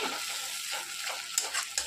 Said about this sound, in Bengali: সেই মিশ্রণটা আমি এবারে এতে দিয়ে দেবো, দিয়ে ভালো করে কষাবো